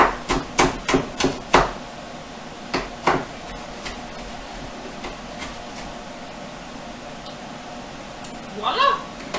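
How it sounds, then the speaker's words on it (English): A rocking knife chops onion and pepper on a board with a quick burst of crisp taps, then several slower, scattered knocks as it rocks. A voice speaks briefly near the end. "I'm just going to rock my knife back and forth, back and forth"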